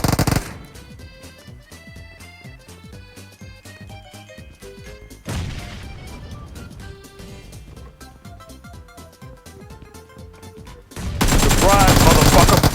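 Rapid bursts of gunfire in a video game, dense crackling shots, then a louder sustained volley near the end, with game sounds and voices talking over it.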